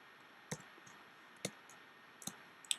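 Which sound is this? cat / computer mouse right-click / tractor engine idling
computer mouse right-click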